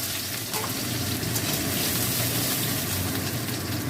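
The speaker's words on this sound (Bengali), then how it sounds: "তেলটা গরম হয়ে গেছে, আমি একটু বেরেস্তা করে নেবো।" Onions frying in hot oil to make beresta, a loud, dense and continuous sizzle heard up close with no voices.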